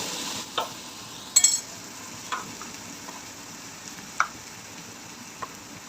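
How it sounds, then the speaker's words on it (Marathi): Green spice paste for suran (elephant foot yam) bhaji frying in a pan, a steady soft sizzle with a few sharp clicks of the spoon stirring through it, fairly close and moderate in level. "वाटण छान फ्राय झालेलं आहे"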